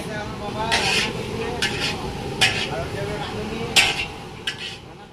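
Metal spoon clinking against a pot while cabbage curry is stirred and mung dal cooks nearby, several sharp scraping clinks over a steady low kitchen hum, with faint talk in the background.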